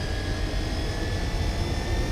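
A car engine in Gran Turismo 4 gives off a constant high, whining buzz during a race. It is loud and steady, with no break and no voices over it.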